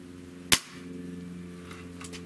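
A single sharp crack from a Hatsan Sniper 125 .22 caliber break-barrel air rifle firing a Crosman Premier 14.3 grain pellet, loud and close, followed by a low steady hum in the background.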